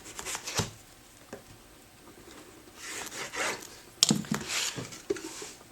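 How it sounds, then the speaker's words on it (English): A bone folder rubbing glued covering material down onto a slipcase, with soft, close raspy strokes that come in short bursts separated by quiet pauses. "And rub this down with the folder."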